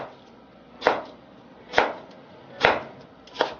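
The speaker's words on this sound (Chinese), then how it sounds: "再来准备一个苹果，切成薄片以后再切成长条" A knife chops an apple into long strips on a cutting board: four crisp, evenly spaced cuts, close and clear, with no talking.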